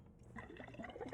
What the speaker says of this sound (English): this is a water filler, of course, and the water comes from the outside